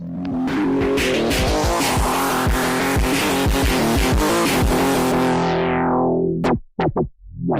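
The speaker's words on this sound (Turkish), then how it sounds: "Şimdi bu ayarları yaptıktan sonra nasıl drift atıyor bir görelim arabayı." A car drifts in the video game Car Parking Multiplayer, its engine revving hard with loud, sustained tire squeal and skidding, then cutting off abruptly near the end with a few short engine blips.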